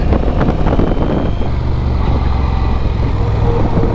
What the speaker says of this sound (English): I love the gear changing on this, the feel it gives you and the sound.